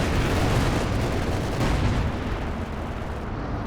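A pair of ML-20 howitzers firing in Company of Heroes 2, a continuous heavy roar of artillery and battle noise that stays loud throughout, with no distinct separate shots standing out.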